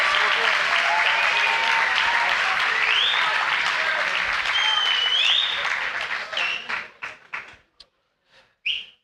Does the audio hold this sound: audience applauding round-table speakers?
yes